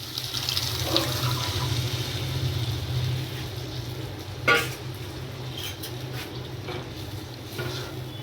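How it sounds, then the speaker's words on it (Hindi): Boiled chickpeas and their cooking water pour into chana masala gravy in a pan, a continuous watery splashing and sloshing with a short louder splash midway. "अब देखिए बॉयल चने जो करके रखे हैं वही डाल रही हूँ, और ये पानी भी इसका साथ में ही जाएगा ग्रेवी के अंदर।"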